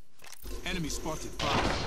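Gunfire in the Apex Legends video game, a burst of shots that grows loud near the end of the clip, with a voice talking beside it.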